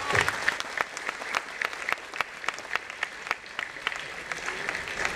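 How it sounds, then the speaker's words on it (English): An audience gives a big round of applause at a JEE topper's talk, dense overlapping clapping that holds steady for several seconds at moderate volume, with no speech over it. "So please, a huge round of applause for everyone."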